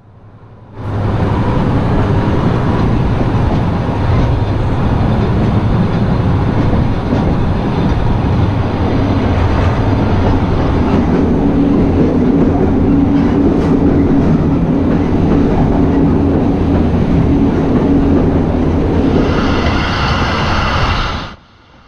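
A passenger train on the Banha–Mit Ghamr line in Egypt rolls along steadily, with a loud, continuous rumble and rhythmic clatter from the cars, heard from on board and without talk.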